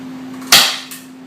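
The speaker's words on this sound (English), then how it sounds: "I got some 1/2-inch staples here. I'm going to staple it down" A single sharp staple-gun shot driving a 1/2-inch staple into tape over drywall, a crisp close snap standing alone above a low steady hum.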